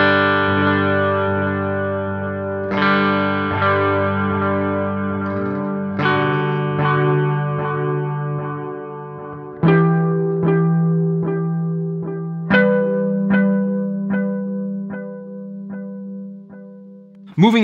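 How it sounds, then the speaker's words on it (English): Electric guitar through a Sonicake Levitate delay pedal with the wet delay signal boosted: plucked notes and chords ring out, each followed by trailing echo repeats, with new attacks every few seconds and denser picking later. "make our wet delay signal louder than our dry signal"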